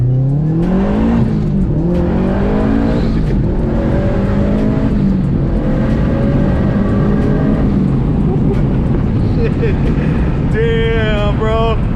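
A 2001 Subaru RSTI engine revving hard, rising harmonic whines climbing in repeated pulls toward redline, loud and close with a gear-change pattern near the end and a voice briefly audible underneath.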